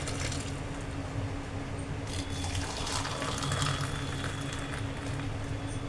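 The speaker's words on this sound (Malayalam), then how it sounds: "ഇവിടെ ഒരാൾക്ക് ഇത്തരം സ്റ്റീൽ ഗ്ലാസ്സിലേ ഒഴിക്കത്തുള്ളൂ" Tea is poured into a steel glass in a steady, unbroken stream that rushes and splashes throughout, with no voices.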